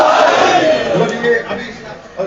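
At a religious gathering in Dera Ghazi Khan celebrating the 9 Rajab birth of Ali Asghar, a large crowd chants slogans loudly and in unison. The chant rises and falls in rhythmic waves close by.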